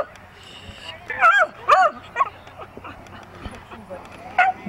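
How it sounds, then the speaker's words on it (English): A dog whimpers and yips in short bursts in the background at an outdoor baseball game, with a play-by-play announcer talking throughout. "Apologize for the stupid dog."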